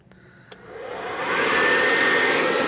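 Hair dryer switched on for a purple acrylic paint pour on a 12x12 canvas, starting after a couple of clicks and rising into a loud, steady airy blast.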